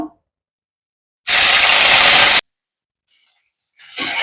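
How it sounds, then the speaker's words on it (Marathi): Curry leaves dropped into hot oil for a Kolhapuri bhadang snack give a sudden loud, steady hiss that lasts about a second and cuts off abruptly. A brief fainter sizzle follows near the end. "आता यानंतर मी घालणार आहे कडीपत्ता"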